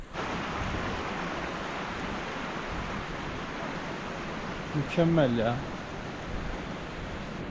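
Glacier-fed stream near Laguna 69 in the Peruvian mountains rushing with a steady, even roar, briefly overlaid by a short spoken remark midway.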